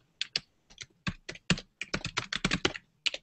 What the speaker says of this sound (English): Just typing this into the chat